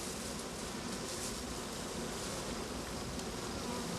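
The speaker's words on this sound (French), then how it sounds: "On appelle ça un essaim d'abeilles." Bees swarming outside a crowded hive fill the air with a thick, unbroken drone, near and constant, with no talking.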